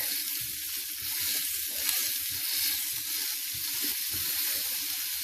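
Paneer and vegetable skewers on bamboo sticks sizzle steadily over a slow flame in a pan. The crackling hiss is constant and close, with faint low bubbling underneath and no voices.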